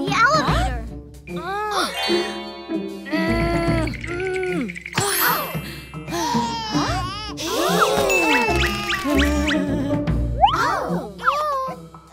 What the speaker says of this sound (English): Press the emergency bell button.